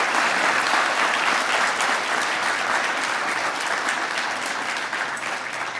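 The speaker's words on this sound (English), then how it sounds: "So let's give them a round of applause as well." Sustained audience applause fills a fire department awards ceremony, steady dense clapping from a large crowd that fades slightly toward the end.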